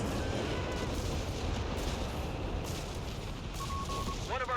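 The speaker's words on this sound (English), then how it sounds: "Just all the explosions." Dull, rumbling explosions and bursts of gunfire boom continuously in a dense Company of Heroes 4v4 match soundscape, with a short electronic beep near the end.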